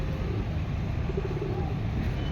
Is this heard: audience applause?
no